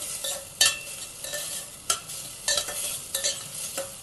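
Rice for a Marathi-style gola bhaat is sautéed in a pan, with a soft sizzle under several sharp scraping strokes of a spoon, close and fairly loud.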